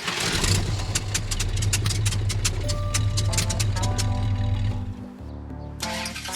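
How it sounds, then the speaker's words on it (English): A big block Mopar 451 stroker in a Dodge Super Bee runs close and loud with a deep, lumpy, uneven idle. It settles briefly near the end before picking back up. "Sounds like this high-performance engine needs some TLC."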